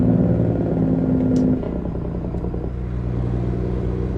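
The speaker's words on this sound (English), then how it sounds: "You may hear a difference in tone for the engine brake because I'm changing the settings." A truck's engine brake in American Truck Simulator, a low droning engine rumble that shifts tone partway through as the setting changes, steady and fairly loud with no talk.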